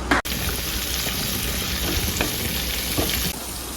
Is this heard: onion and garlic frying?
yes